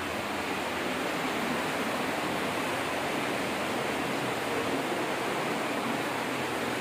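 Water pours steadily from a natural spring source at the top of the Mughal-era Nishat Garden in Srinagar, a constant broadband rushing hiss with no breaks.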